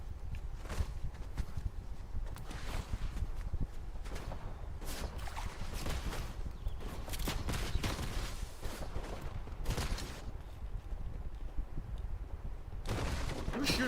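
Rapid bursts of video game gunfire crackle through a dense, noisy mix, with repeated sharp shots and volleys spread across the whole stretch alongside footstep-like thuds and other game effects.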